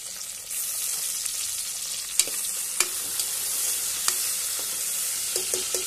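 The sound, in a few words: tomato frying in oil with onion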